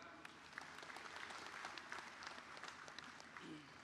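Applause from a large crowd fills a Harlah GP Ansor 91st anniversary gathering, a steady dense clapping that runs without a break and sounds fairly distant.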